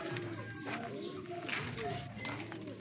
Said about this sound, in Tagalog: Ang gandang kalapate ito.